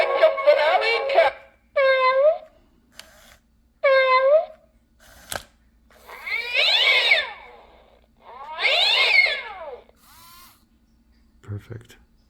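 A Gemmy Fraidy Cat Halloween animatronic toy is tested as its mechanism turns. It gives loud, repeated electronic cat yowls and screeches in separate bursts, with a sharp click and brief mechanical noise between them.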